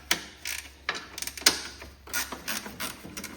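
Loosening the rear support on a Cub Cadet 682 garden tractor gives close metallic clicks and ratcheting rattles in short bursts, with small creaks between the tool strokes.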